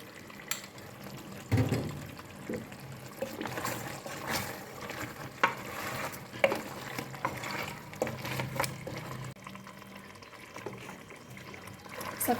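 Honey and meat mrouzia, a Moroccan sweet stew, being stirred in a pot, with a steady wet, sticky scraping and sloshing running throughout at close range and moderate volume.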